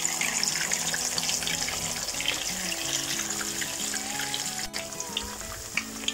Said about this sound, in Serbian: Sačekat ćemo da se pogačice fino isprže sa donje strane.